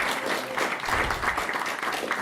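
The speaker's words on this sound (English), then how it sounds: "Can we give them a round of applause?" Guests at a small house concert applaud, a warm continuous patter of clapping from a modest gathering indoors, even and moderately loud, with no voices over it.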